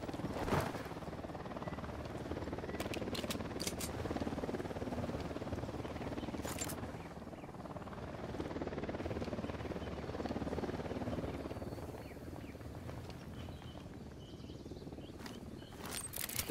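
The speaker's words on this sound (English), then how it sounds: "Chopper is coming." A helicopter approaches in the video game Ghost Recon Wildlands, a continuous, fairly quiet rotor drone that holds steady for the whole stretch, with occasional sharp clicks and no talk.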